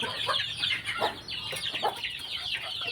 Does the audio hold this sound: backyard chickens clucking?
yes